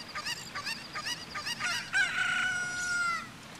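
A chicken crows and squawks in Zelda: Ocarina of Time, a run of short clucks building into a longer drawn-out crowing call, loud and close over faint game music.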